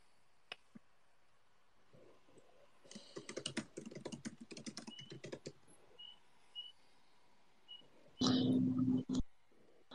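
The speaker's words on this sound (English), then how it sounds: "There's some typing going on there." Quiet room with bursts of typing on a computer keyboard, a dense flurry of clacking keys in the middle followed by a few scattered clicks and a brief louder knock near the end, heard alone without talk.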